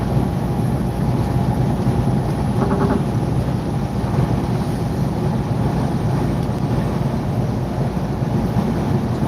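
A truck's lane departure warning sounds as a brief burst of tonal beeps, heard once near the start beneath a loud, steady cab and road rumble on a highway drive.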